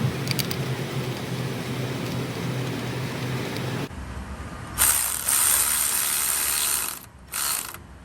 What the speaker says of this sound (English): I'm gonna go ahead and get this adjuster tightened up